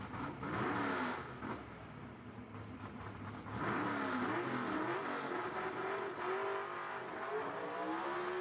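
A drag racing car making a pass at Knoxville Dragway during a Southeast Gassers Association test and tune: a loud engine roars and rises in pitch, revving hard and continuously with a strong near-field drone.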